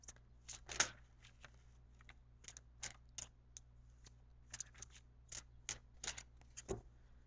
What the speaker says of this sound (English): as I pull your card here